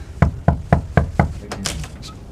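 Knuckles rap on the front door of a house, five firm, evenly spaced knocks close by, followed by a few softer, scattered sounds.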